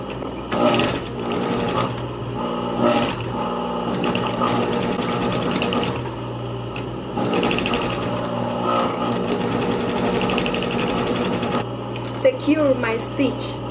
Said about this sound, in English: So I'm going to sew, to start sewing the edges from the top to the bottom.